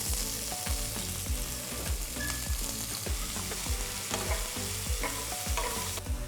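Chopped onions saute in a pan with fennel, kalonji seeds and red chilies while making achari chicken masala. The sizzle is constant and close, and the rhythmic clicks of stirring run through it, with no talking.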